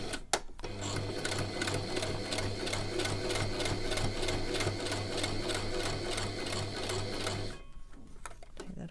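A domestic sewing machine back-stitching a fabric face mask, running steadily with a fast, even mechanical whir and rhythmic needle clatter, close and continuous for several seconds before stopping.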